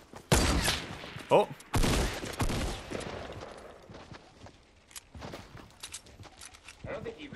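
Fortnite battle royale gunfire on PS4: sharp bursts of shots and a rapid volley early on, followed by scattered lighter cracks and building clatter, with a brief exclamation from a player.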